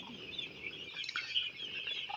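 Eight-day-old broiler chicks of a commercial hatchery strain, recovering from a cold, give a steady chorus of thin high peeps and chirps, moderately close, with a few louder calls standing out.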